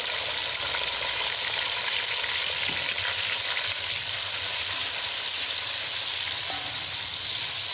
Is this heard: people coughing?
no